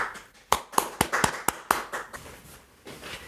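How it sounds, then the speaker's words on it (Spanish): Scattered audience clapping welcomes a guest to a talk on electrical control panel safety, a handful of sharp, separate claps at first that loosen into lighter, fading applause. "vamos a darle un aplauso y bienvenido, Timothy."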